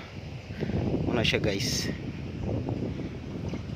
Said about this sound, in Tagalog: murag makahadlok kusog ang hangin